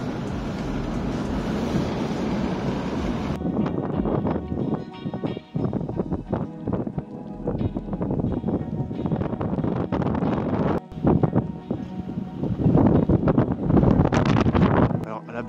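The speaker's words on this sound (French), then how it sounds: "un petit aperçu de la ville enneigée sous le froid, la tempête, enfin le vent" Strong wind roars through a snowy town during a cold snowstorm, a loud continuous rushing and buffeting against the microphone, with gusts swelling and dropping throughout and occasional voices underneath.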